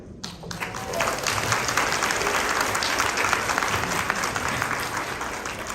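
Audience applause at a Mary Kay seminar, many hands clapping in a sustained, even burst that starts abruptly and holds at steady volume throughout, with no talking.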